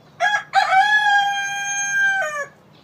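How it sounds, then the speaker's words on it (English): A rooster crows once, loud and close, a long sustained call with a rising start and a falling tail, ringing out alone over quiet garden air on a frosty winter day. "that's Barry crowing in the background."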